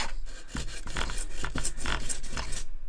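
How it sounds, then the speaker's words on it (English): Close, brisk scrubbing with a Scotch-Brite pad on a Lexus LS430 Mark Levinson factory subwoofer part, rough back-and-forth rasping strokes in a quick uneven rhythm, no voices. "Clean this off with a Scotch-Brite pad"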